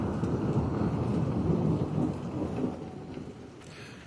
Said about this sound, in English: Thunderstorms in February.